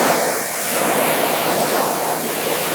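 Water from a hose sprays steadily and loudly over an abandoned 1970 Dodge Charger R/T, rinsing away old oil, rust and grime in a continuous rushing hiss with no voices.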